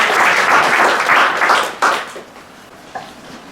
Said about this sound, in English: I think that deserves our applause,